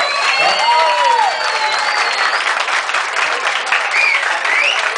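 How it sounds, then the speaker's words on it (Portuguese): An audience claps and cheers for a group at a clan anniversary gathering, a dense, loud wash of applause with whistles and whoops rising above it for the whole stretch. "Novamente uma salva de palmas para o grupo Ordo dos Merecem"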